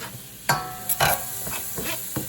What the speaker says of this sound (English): now that oil is a little nice and hot, throw in a little bit of onions in there